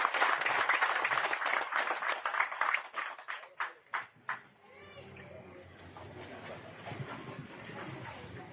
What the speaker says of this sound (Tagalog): isang magsigapong palakpak po para po sa ating Grand Supremo